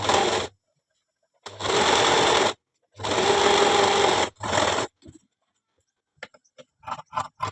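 A sewing machine stitches a hem on a saree in three long bursts and a shorter one, steady and close, followed by faint light clicks and handling sounds.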